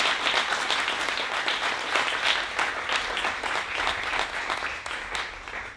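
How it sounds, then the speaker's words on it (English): An audience at a seminar lecture claps in sustained, dense applause, many hands together filling the room at a steady level for several seconds. "A big warm applause to Professor Pavone."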